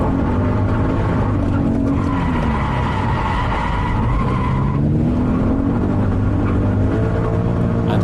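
A car drifts flat out toward a grass verge, engine howling under load while tires squeal and skid continuously, rising and falling in pitch across several seconds.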